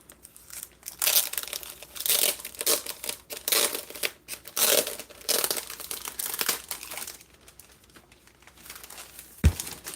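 Sheets of kintsugi-patterned craft paper from a welcoming garden kit crinkle and crumple close by in bursts, with a sharp bump near the end and no talk.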